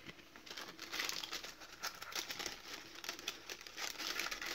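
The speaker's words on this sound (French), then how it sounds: "À l'intérieur, on y trouve à nouveau un mini junk avec les petits papiers froissés." Small crumpled papers inside a mini junk journal with a spring theme are handled, producing a quiet, continuous close crinkling and rustling with soft irregular crackles.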